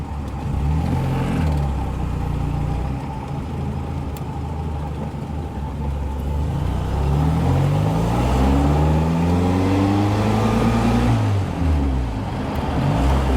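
A 1955 Austin Healey 100 BN1 engine drones steadily from inside the car, its pitch dropping and climbing as the driver double-clutches and downshifts into second gear, with a loud, continuous roar throughout.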